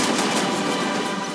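Rapid naval gunfire from warships in the Modern Warship online game, a dense continuous roar of overlapping shots and blasts filling the whole moment, loud and close with no gaps between rounds.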